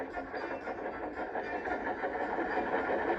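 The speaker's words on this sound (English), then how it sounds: "Gently braking, Edward's driver checked the engine's speed" A steam engine train runs along rails, a steady, continuous rumble with rolling rail noise holding at an even level throughout, no voices on top.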